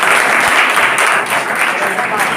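An audience of students at a motivational seminar in a government school claps together in loud, continuous applause that fills the whole stretch without a break.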